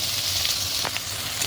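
Potato pieces added to onion frying in a pan, a dense close hiss of sizzling oil with a brief stir partway through; no talking.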